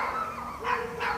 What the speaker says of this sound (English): Oh, look, there's where all those dogs are coming from.